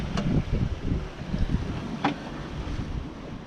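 A sailboat under sail in a 19-knot wind at about 7 knots: gusty wind buffets and rushing water, with a couple of brief thumps, fairly close and unbroken throughout.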